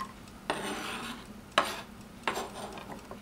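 A knife scrapes chopped onions off a cutting board into a pan in three sharp, close scraping strokes. The strokes come at spaced intervals over a quiet kitchen background.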